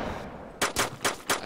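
Four quick gunshots ring out in the survival video game DayZ, evenly spaced sharp bangs over a low background rumble, fired in a rapid burst at close range.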